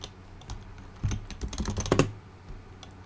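Rapid, uneven clatter of keys on a computer keyboard at close range, with fast typing intensifying midway and then easing off.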